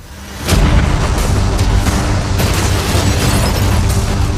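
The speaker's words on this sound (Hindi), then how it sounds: "कैनन्स को तैयार करो।" Cannons firing in a large outdoor game challenge: a loud, sustained barrage of booming blasts and bursts that starts abruptly and rolls on continuously with repeated sharp impacts.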